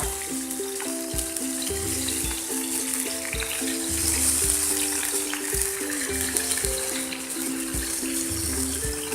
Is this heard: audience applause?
no